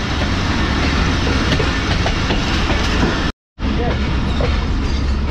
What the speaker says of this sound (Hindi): लाहौर की वॉशिंग लाइन के पास आ चुकी है हमारी ट्रेन